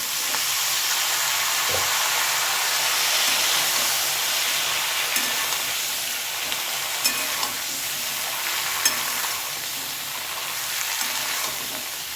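Washed taro stolons (kochur loti) dropped into a hot pan, giving a steady broadband sizzle and frying hiss throughout, with a few light stirring clicks and no talking.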